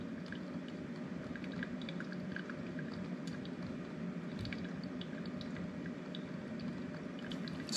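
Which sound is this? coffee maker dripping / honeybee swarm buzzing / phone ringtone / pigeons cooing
coffee maker dripping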